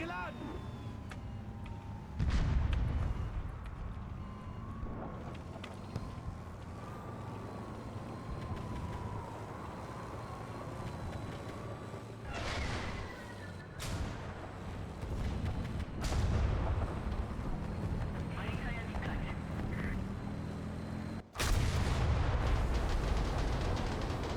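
Tank cannon fire and rumbling engines in an online tank battle game, with heavy booms at intervals over a constant low mechanical drone.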